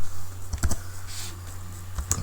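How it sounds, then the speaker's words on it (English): Computer keyboard typing during a C programming lesson, a short close run of light, irregular key clicks over a low steady hum, with no speech. "I'm typing exactly what I'm saying there"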